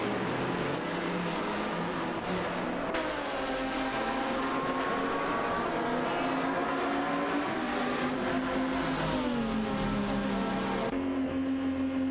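Video game race cars, including a Porsche Carrera GTR and a Ferrari 575 GTC, battling for position with steady engine drone and shifting pitch as they accelerate and change gear, continuous throughout.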